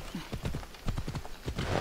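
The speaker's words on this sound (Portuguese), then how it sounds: "Vou chamar meu cavalo." A horse galloping in the video game Assassin's Creed Odyssey, rapid rhythmic clip-clop hoofbeats close and clear, running continuously without speech.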